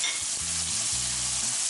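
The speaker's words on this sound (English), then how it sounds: "Give that a nice mix." Honey-coated carrots being stirred in a lightly oiled bowl with salt and pepper, a steady wet sizzling swish with low scraping strokes, close and continuous, no talking.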